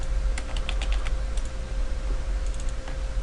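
Rapid, uneven clacking of fingers typing on a computer keyboard, with a few brief bursts of keystrokes over a steady low hum, close and moderately loud with no talk.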